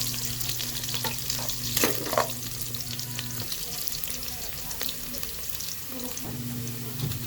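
Onion and garlic fry in oil in a freshly washed pot with a continuous close sizzle. A low steady hum runs beneath, and occasional clicks and scrapes come through.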